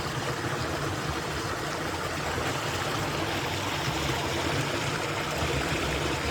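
Steady, dense rush of water streaming along an irrigation channel watering vegetables, continuous and fairly loud with no pauses or voices.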